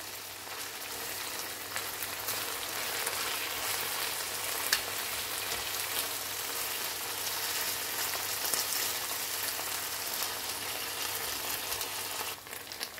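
Chicken breast simmering with wine in a frying pan, giving a dense, even sizzle and crackle that runs steadily throughout, close up, with no talking.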